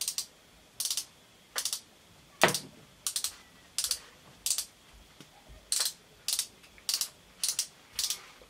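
A foam-applicator concealer tube makes a run of about fourteen crisp, evenly spaced clicking squeezes up close, with a faint background hiss between them.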